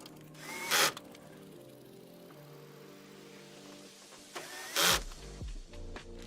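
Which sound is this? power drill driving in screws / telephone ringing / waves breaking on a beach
power drill driving in screws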